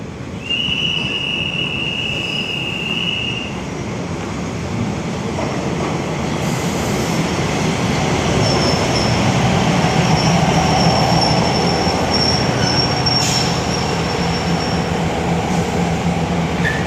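A train on the Maha Chai line rolls into a station, its wheels squealing high at first, then a loud, steady rumble of railcars passing close by with occasional metallic screeches.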